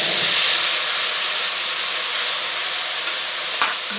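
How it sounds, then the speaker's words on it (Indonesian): Hot oil heating in a pan to sauté spice paste for gado-gado, a loud, steady, close hissing sizzle that holds evenly throughout, with one brief tap near the end. "Lalu kita akan menumis semuanya. Kita panaskan minyak,"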